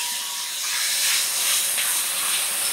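Squid roast sautéing in a pan, a steady bright sizzle and hiss of frying that swells gently and holds throughout, close and fairly loud with no voices.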